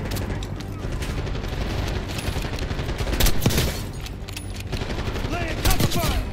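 Rapid gunfire from a Call of Duty Black Ops 6 firefight, dense overlapping bursts and shotgun blasts crackling close and loud, with a voice talking over the action.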